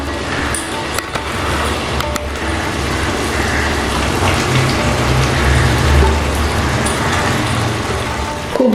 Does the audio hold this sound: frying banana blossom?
yes